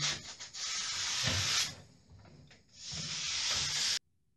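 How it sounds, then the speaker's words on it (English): A damp cloth rubs over fresh hardwall patch plaster on a wall, making close, rough, hissing wiping strokes in two long passes with a short pause between. "With a damp cloth, just wipe down."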